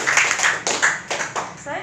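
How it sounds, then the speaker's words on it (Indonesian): A few loose rounds of hand clapping from an audience at a health talk in Indonesia, short uneven bursts with a voice mixed in over them. "Tepuk tangan dulu."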